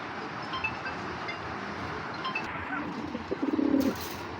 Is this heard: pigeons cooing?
yes